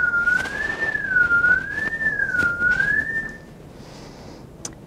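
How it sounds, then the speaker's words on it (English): A clear warbling siren-like tone rises and falls in slow, even waves for about three seconds, then cuts off leaving faint background noise. "If you hear siren, go to 2."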